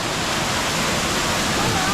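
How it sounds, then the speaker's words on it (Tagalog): Water flowing out of a mine tunnel, a steady, loud rushing roar with no breaks, heard close by. "mula dyan ang tubig, galing dyan sa tunnel yan"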